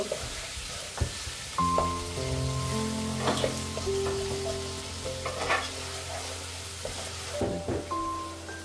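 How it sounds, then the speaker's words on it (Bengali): Onion frying in ghee in a pan, a continuous close crackling sizzle with stirring scrapes, under steady tonal background hum and beeps, no speech. "এবার ঘিয়ের সাথে ঘি দিয়ে পেঁয়াজটা একটু ফ্রাই করে নিব।"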